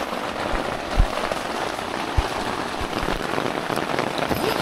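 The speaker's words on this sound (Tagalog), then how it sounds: "Naulan na." Rain falls steadily at a lakeside campsite, a dense close patter with occasional heavier drops hitting a surface, and no talking.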